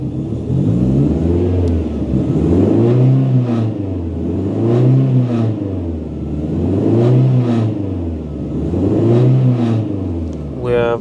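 A Mercedes 190E with a swapped M111 engine revs repeatedly, loud and close, five rising-and-falling throttle blips in a steady rhythm over a running idle, with a brief metallic chirp at the end.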